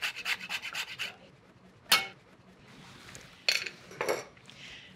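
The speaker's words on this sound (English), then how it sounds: "Now, grate about 1/2 of a fresh nutmeg." Fresh nutmeg is grated against a metal grater in a series of quick, close rasping strokes at first. A few sharper scrapes and clinks of the tool follow, with quiet gaps between them, and no one speaks.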